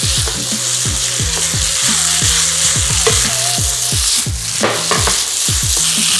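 Bacon and spaghetti sizzle loudly in a frying pan while being tossed, a constant hiss of frying fat with rhythmic scraping and stirring strokes throughout.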